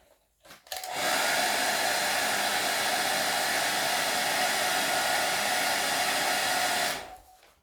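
A heat gun blows steadily to reheat carbon-look film on a motorcycle fairing, a continuous loud rushing whoosh that starts abruptly, holds for about six seconds and then cuts off, with no talk.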